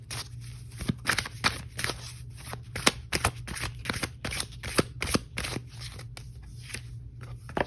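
Oracle cards being shuffled close by during a tarot reading, making a quick run of crisp, papery riffles and snaps in irregular bursts.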